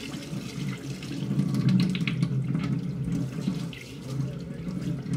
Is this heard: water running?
yes